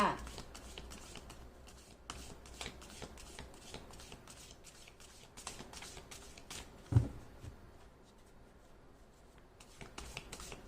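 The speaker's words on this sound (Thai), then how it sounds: "อาจารย์ขอเรียกสับไพ่เพื่อเปิดดวงให้กับชาวราศีพฤษภค่ะ" Tarot cards being shuffled, a rapid run of soft papery flicks and snaps repeating steadily for about ten seconds, close and fairly quiet, with a faint murmur in the background.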